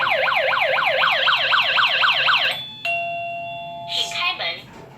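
Vic Tsing wireless doorbell set to alarm mode and triggered by motion sounds a loud, rapidly warbling siren for a few seconds, then holds a steady tone before breaking off into brief rustling handling noises.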